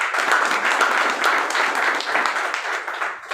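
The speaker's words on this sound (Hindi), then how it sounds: "तालियों से सम्मान किया जाए।" An audience claps steadily to honour a guest at a network marketing gathering, a dense, sustained round of applause filling the room for several seconds with no voices over it.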